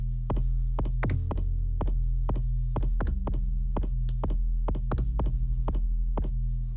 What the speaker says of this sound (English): There's another good way to create a kick drum sound